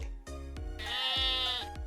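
A frightened sheep in a staged children's story reading lets out a wavering, nasal bleat. The close cry rises into one sustained quavering call lasting nearly a second.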